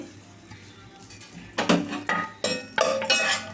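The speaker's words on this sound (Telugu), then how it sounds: "డ్రై ఫ్రూట్స్ని అయితే వేసుకోవాలి" Dry fruits dropped into hot ghee in a pan for carrot halwa give a series of sharp clinks and scrapes against the metal, several distinct hits in the second half with no talking.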